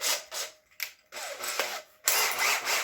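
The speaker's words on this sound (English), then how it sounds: "we're going to cut the inside of this pipe to the desired length we want" A power drill whirs in short bursts, stopping and starting, turning a pipe cutter inside a pipe with a scraping, grinding rub of metal being cut as it turns.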